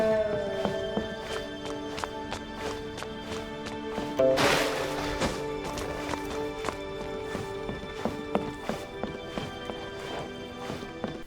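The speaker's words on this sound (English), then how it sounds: "Listen to the audio of my footsteps." Footsteps of a character in Genshin Impact moving across wood, tile and rug, a steady rhythm of clear close taps over soft game music.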